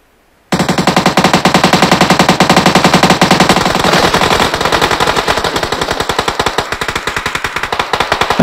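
Loud automatic gunfire in the mobile game PUBG Mobile bursts in after a moment of near silence, then fires as a long, dense, rapid stream of shots that continues without pause to the end.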